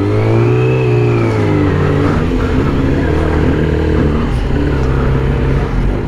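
A Yamaha R6 sport motorcycle engine revs hard and continuously at close range, pitch rising and falling through sustained throttle blips with no talk over it.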